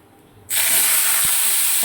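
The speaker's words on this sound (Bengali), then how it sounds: "দেখো, একটু জিরে ফোড়ন দিলাম" Cumin seeds drop into hot oil for tempering, and after a quiet start a sudden loud, bright hiss and sizzle takes over and holds steady.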